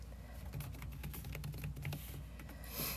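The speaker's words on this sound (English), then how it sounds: "I'm having a hard time typing today." Quick, uneven clicking of keys on a computer keyboard, close and fairly quiet, with a brief burst of hiss near the end.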